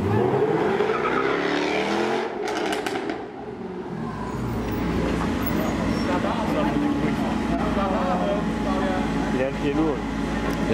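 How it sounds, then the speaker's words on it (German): A Porsche sports car with a decorative wrap pulls up at a supercar gathering, its engine rumbling loudly and steadily throughout amid crowd chatter and background voices. "Porsche qui arrive."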